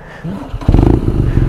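A 120-horsepower twin-cylinder 1200 motorcycle engine fires up and settles into a loud, steady, rumbling idle close by, after a brief quieter stretch with faint mechanical noise.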